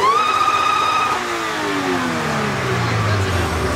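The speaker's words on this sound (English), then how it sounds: "the way that supercharger sounds." Supercharged car engine revving up close, with a rising whine that falls away as the revs drop, heard under people talking nearby.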